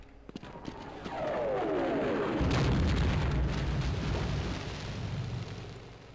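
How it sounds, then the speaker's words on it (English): An airstrike explosion in Half-Life erupts as a heavy boom after a descending whistle, then a long, loud rumbling roar that slowly fades, with no voices. "And yet another airstrike just happened."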